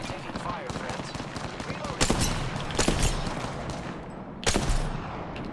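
Rapid gunfire in Apex Legends, a steady stream of shots punctuated by several sharp, louder cracks close by, with a player talking over the firefight.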